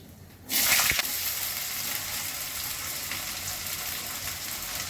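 Potatoes dropped into hot oil with nigella seeds set off a sudden loud hissing sizzle that holds steady and close, a continuous bright crackle of frying with no voices.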